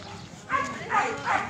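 A dog barking outdoors, three short yappy barks spaced about half a second apart, fairly close, after a brief quiet lead-in.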